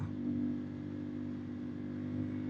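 A CF-MOTO CL-C 450 motorcycle engine held high at its low rev limiter, a steady, droning mid-pitched roar with a slight pulsing bounce, close and continuous with no talking.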